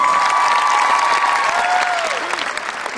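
A concert audience claps in dense, sustained applause throughout, loud and close, with a faint musical tone underneath.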